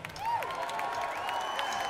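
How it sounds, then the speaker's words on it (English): Concert audience at an outdoor music center in Philadelphia clapping along during a 1997 show, soft scattered claps under sustained guitar or organ tones and sliding notes from the stage. "My drummer wants to see everybody clapping."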